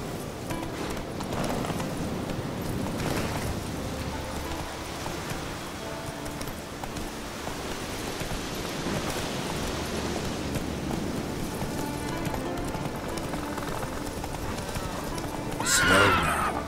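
Horse hooves clip-clopping steadily with a neigh or whinny near the end, from the video game The Witcher 3, moderately loud over ambient game sound.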